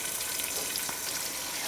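Chopped onions frying in oil for Pakistani beef biryani, a steady soft sizzle with small crackles throughout, heard alone and close.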